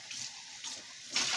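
Cold water poured from a small thermos into a stew pan, a short close gurgling stream that swells near the end, with no talking.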